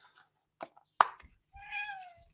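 A cat meows indoors: a few soft short sounds, then one sharp click, then a clear, drawn-out meow that falls in pitch near the end. It is close and moderately loud, with quiet room between the sounds.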